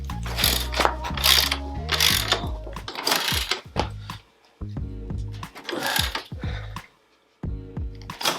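A ratchet wrench cranks down the shock bolt on a Honda XR200R dirt bike, in close, loud bursts of rapid clicking separated by short pauses.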